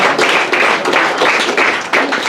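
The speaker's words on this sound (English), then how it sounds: "Give it up for yourselves who are cramming in here." A packed comedy club audience at Dugan's Hideaway applauds steadily, dense clapping that swells in repeated waves across the whole stretch, with no voices over it.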